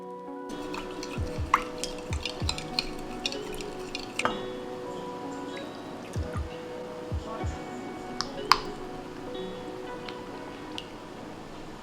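Slime mixture of borax and Gatorade being stirred in a container, wet squishy drips and occasional glassy clinks in an irregular rhythm, close and fairly quiet, with faint talking underneath.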